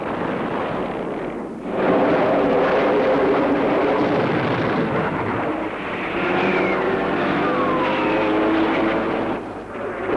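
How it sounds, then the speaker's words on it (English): Fighter planes roar overhead in a Korean War setting, a loud broad jet rumble that swells and holds, with a brief dip before rising again; no talk. "At least those fighter planes are ours."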